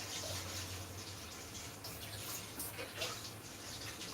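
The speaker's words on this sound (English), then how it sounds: "I'm gonna put a bit more water." A kitchen tap pours more water into a peanut soup, giving a faint, continuous hissing stream with occasional light splashes and no voices.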